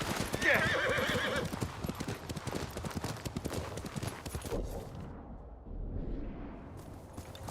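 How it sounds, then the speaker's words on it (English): Rapid clip-clop of horse hooves in the video game Ghost of Tsushima, fairly close, with a whinny near the start; the hoofbeats fade to a quieter ambience toward the end. "You're a good horse, Lord"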